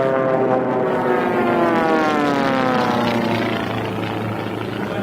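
A small Formula One class racing airplane flies past at a national championship air race, its propeller engine a loud, steady drone with a descending pitch sweep as it passes close by, continuous throughout.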